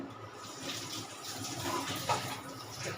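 Water poured into a pan for making sugar syrup for a mango and jackfruit sweet, a steady continuous splashing wash close by with no voices.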